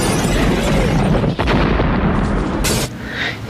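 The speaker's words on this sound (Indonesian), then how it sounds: "di sini kita akan melihat betapa dahsyatnya ledakan dari satelit tersebut menghancurkan tempat dan seluruh" A satellite-weapon blast in the GoldenEye video game roars as a loud, sustained explosion rumble with crackling debris, a brief dip and a final burst before fading.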